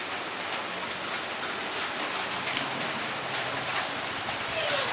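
Steady rain patters across surfaces in a dense, even hiss of droplets, moderately quiet and continuous with no voices.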